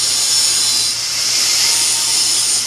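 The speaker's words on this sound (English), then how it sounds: "Now I have to use the grinder fair near to the cut." An angle grinder grinds a homemade slip harpoon tip near the cut, a loud, continuous high whine with a hissing edge, close and alone.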